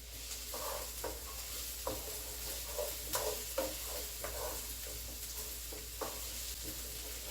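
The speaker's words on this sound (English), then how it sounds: "Give it a nice little stir around." Lasagna filling is stirred in a pan, with quiet scraping strokes and soft clinks in an irregular rhythm over a faint low sizzle.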